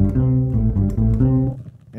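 Fretless electric bass played through a Mooer Pure Octave pedal with the upper octave engaged, giving sustained, thick synth-like notes with added high harmonics that change pitch a few times, close and alone.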